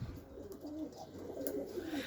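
Pigeons coo softly and repeatedly at close range in a pigeon loft, a steady low murmur with no talking.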